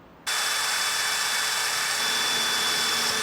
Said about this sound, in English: I'm just going to drill through the first layer with the 1/8 inch.